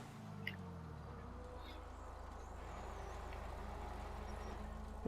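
A Gallivanter Baller SUV drives around Los Santos in GTA V, giving a steady, loud low engine drone with road rumble that holds throughout.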